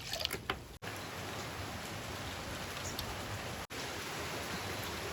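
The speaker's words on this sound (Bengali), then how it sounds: "বৃষ্টি আবার জোরে আসছে" Heavy rain pours steadily outside a home the day after Cyclone Dana, a dense, even hiss that runs on without letup, broken only by two brief dropouts.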